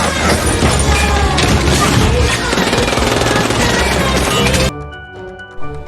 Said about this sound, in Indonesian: Baku hantam, tembak menembak, ledakan